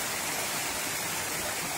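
Water of the flooding Citarum river upstream of the Walahar dam in continuous rain rushes in a dense, steady roar, loud and alone.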